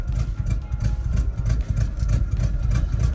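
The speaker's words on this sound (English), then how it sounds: "It's running off the carburetor by now. She's rough." A 1972 Chevrolet 402 big-block V8 running rough on its carburetor, a loud close rumbling idle with an uneven, loping pulse and heavy low-end vibration, no talking.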